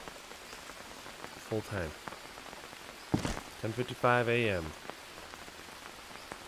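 Rain in the Green Hell survival video game, a soft steady patter on surfaces heard faintly beneath someone talking intermittently.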